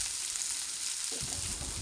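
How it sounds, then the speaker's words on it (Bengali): Chopped onions fry in a pan over medium-low flame, a steady hissing sizzle heard up close and alone, with a faint low stirring rumble near the end. "প্রায় 1 মিনিট ধরে লাল লাল করে ভেজে নিলাম।"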